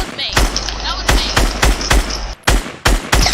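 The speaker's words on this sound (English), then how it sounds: "Who's shooting at me then?" Shotgun and automatic gunfire in a tactical shooter video game played on a playground map, loud, close, sharp repeated blasts in rapid irregular bursts with short gaps.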